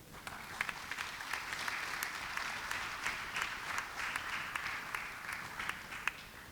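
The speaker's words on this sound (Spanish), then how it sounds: "La recibimos con un fuerte aplauso." An audience at an international humanities symposium applauds steadily for several seconds, a dense, even wash of clapping heard from within the hall.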